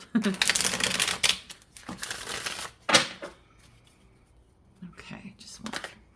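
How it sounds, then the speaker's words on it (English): Close, crisp card shuffling in several bursts with papery riffles and taps, and quiet whispering talk in between. "Give me a moment while I shuffle."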